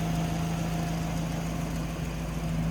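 A 1951 Buick Super Estate woody wagon engine idles steadily with a low, even hum and a constant rumbling drone, close by and unbroken throughout.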